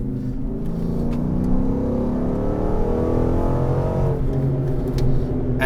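A Dodge Magnum SRT8 wagon's Hemi V8 revs out in a lower gear, its steady, loud engine drone climbing gradually in pitch from inside the car, with no talking.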